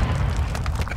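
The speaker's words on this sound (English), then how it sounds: "No, he's throwing a stun grenade!" Stun grenade going off in Call of Duty Modern Warfare II multiplayer, a loud, dense low boom that fills the whole second with sustained rumble and crackle, no voices over it.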